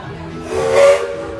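Walt Disney World Railroad steam train at the Magic Kingdom gives a short, loud whistle blast with breathy steam hiss, rising out of a steady background rumble and fading within about half a second.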